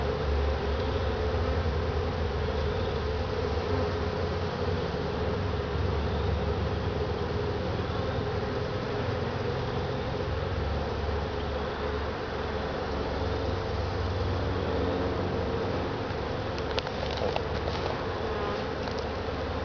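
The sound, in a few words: riled-up bees buzzing around hive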